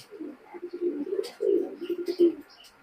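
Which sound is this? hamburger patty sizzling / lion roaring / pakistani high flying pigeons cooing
pakistani high flying pigeons cooing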